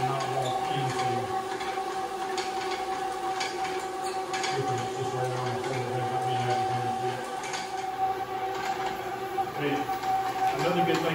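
A floor machine fitted with a 3M pad strips a vinyl composition tile floor, giving a steady continuous mechanical drone with a constant tonal hum throughout, loud and close.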